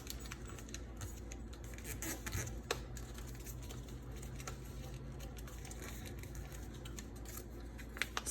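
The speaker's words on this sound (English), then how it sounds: "you can do one more wing fold where you fold it then up." Paper being creased and folded into a paper airplane wing, giving soft, faint crinkles and rustles that repeat steadily with a few sharper crackles.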